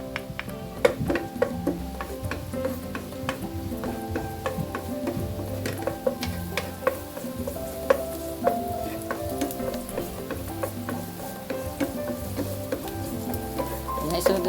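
Leftover garlic sizzles and crackles in a pan of hot olive oil, with steady frying hiss and scattered sharp pops and stirring scrapes at close range.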